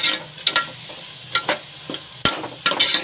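Chopped tomatoes sauté for chicken dum biryani, a steady close sizzle broken by sharp scraping stirs of a spoon against the pan, repeated every half second or so.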